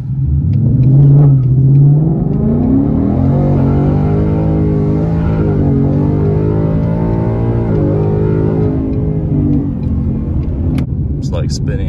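A tuned Ford Mustang GT accelerates hard, its engine note climbing loud and close for several seconds in a sustained rising roar before easing off.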